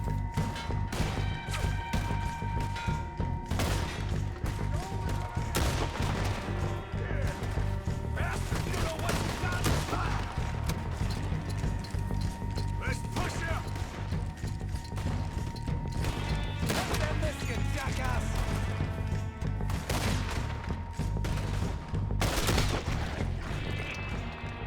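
Gunfire fills a Red Dead Redemption 2 shootout, with repeated loud shots and crashes over a dense, continuous game soundtrack, and voices mixed in.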